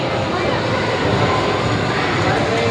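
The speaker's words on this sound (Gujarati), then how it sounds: "ટ્રેન હાલે છે." A toy train ride runs inside a shopping mall, giving a steady rolling rumble against busy indoor ambience with indistinct voices in the background.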